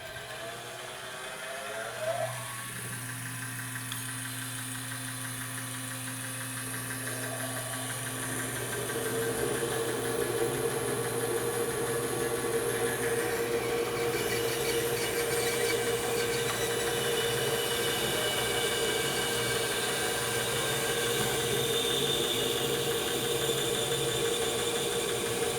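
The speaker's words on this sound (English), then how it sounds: "make those curved cuts, which that 1/4 inch 6-tooth blade are perfect for" A bandsaw fitted with a 1/4 inch 6-tooth blade cuts the curves of a cabriole leg, its motor hum rising into a steady, continuous cutting whine that holds evenly through to the end, loud and close.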